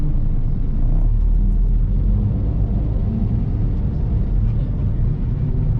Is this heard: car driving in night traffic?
yes